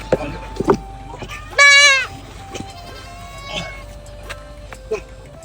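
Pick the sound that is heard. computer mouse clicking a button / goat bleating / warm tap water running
goat bleating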